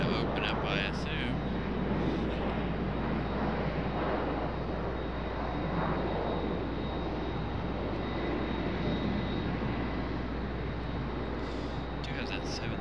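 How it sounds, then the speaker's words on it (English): A Boeing 737 airliner taxiing at Raleigh-Durham airport gives off a steady, dense jet-engine roar that fills the whole stretch, continuous and moderately distant with no clear breaks. "Do have that 737 taxi back here, maybe."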